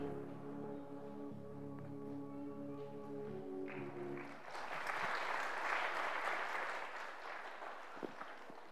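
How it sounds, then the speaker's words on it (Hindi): Audience at a spiritual talk applauds after a sustained harmonic tone fades, rising into a broad wash of clapping that holds, then thins out toward the end. "ये तालियां आपने बजाई उसी शांति की स्थिति में।"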